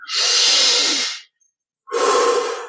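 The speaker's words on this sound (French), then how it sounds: "20 respirations profondes." Two deep, close breaths during guided meditation, each a long airy hiss, separated by a short silent pause.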